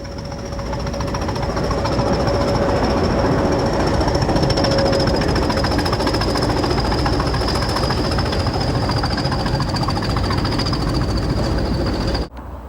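Class 20 diesel locomotives haul a weed killer train along a main line, a loud, steady rumble with rapid rhythmic rail clatter and a sustained high whine, continuing unbroken for the whole stretch before cutting off abruptly near the end.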